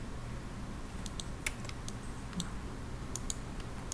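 Sharp mouse clicks in quick bursts, including triple-clicks, while modeling a living-room perspective in SketchUp, sounding close and crisp over a faint steady background hum.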